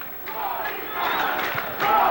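Corinthians supporters in a Brazilian stadium during a 1996 league match against Fluminense, a broad crowd chant rising and swelling from the stands, distant and continuous throughout.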